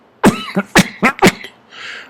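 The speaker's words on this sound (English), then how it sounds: "I wasn't coughing till I got to this point." Four sharp coughs in a quick cluster, close and loud, followed by a soft breathy exhale.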